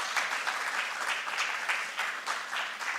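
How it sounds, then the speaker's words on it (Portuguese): A conference audience applauds steadily for a health institute marking ten years, many hands clapping in an even, sustained wash with no talk over it. "uma salva de palmas para o Instituto Projeto Cura"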